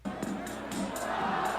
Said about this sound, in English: Oh, the crowd had sound.